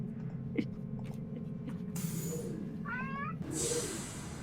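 A cat meows twice, short and fairly close, over a quiet room hum.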